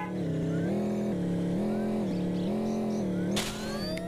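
A car drifts in the Dude Theft Wars video game, its engine holding a steady, slightly wavering drone while tires squeal continuously, with a sharp burst of noise near the end.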